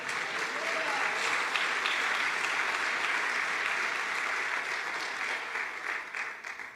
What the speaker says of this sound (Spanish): ¿Cuánto le dan aplauso al Dios creador?